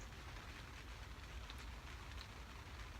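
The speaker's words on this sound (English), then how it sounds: "sitting in the polytunnel in the rain" Rain falls steadily on a polytunnel, a dense, even hiss of patter with a few sharper drops standing out, continuous and moderately loud with no voices.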